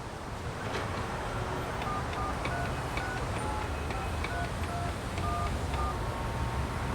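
A telephone number being dialed in the video game Aegis Rim, short tones pressed one after another over steady wind-like background noise, with no talking.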